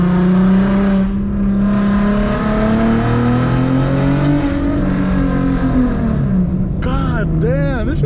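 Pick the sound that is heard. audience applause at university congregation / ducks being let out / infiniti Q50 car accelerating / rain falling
infiniti Q50 car accelerating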